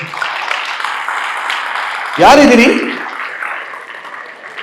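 Applause and cheering from the audience at a Kannada comedy show in Cincinnati, Ohio swell loudly for about a second and then fade into the crowd's murmur, with the host's amplified voice talking before and after.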